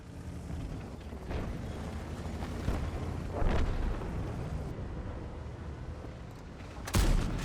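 Tank cannon shots in World of Tanks boom through a rumbling battle soundscape, with several heavy blasts spaced a couple of seconds apart and a sharp final report near the end.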